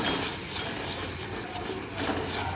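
Tomatoes cooking into masala in a pan over low heat, mashed and stirred with a spoon, giving a continuous close hiss with soft scraping and squelching throughout.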